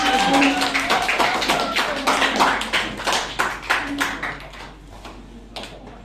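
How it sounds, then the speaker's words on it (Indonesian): Classmates clapping for a student group about to present at a teacher-training session: a loose patter of a modest number of hands, fairly close, with a faint voice underneath, thinning out toward the end. "silakan berikan tepuk tangan untuk kelompok 2"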